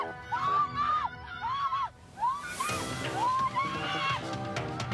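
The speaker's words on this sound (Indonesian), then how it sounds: "Penumpang mobil pun berteriak histeris." Passengers inside a car scream hysterically during a street attack by a group in black in Makassar, with repeated high wailing cries in several bursts over rough background noise.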